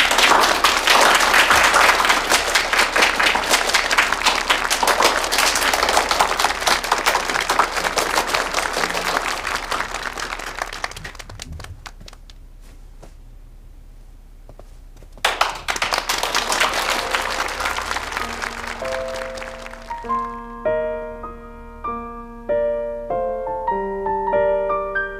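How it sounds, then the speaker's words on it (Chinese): A large audience bursts into sustained, dense applause welcoming a speaker at a formal business event, fading to a lull before a second swell of clapping, then giving way to light music. "让我们用最热烈的掌声欢迎穆恩绍"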